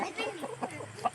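Tall roosters on a farm give short, close clucking calls in quick bursts, with no talk over them.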